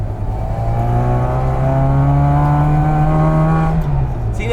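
A 1962 Austin Mini panel van with a 1098 engine, revving with a rising, sustained buzzy drone up close, then easing off near the end.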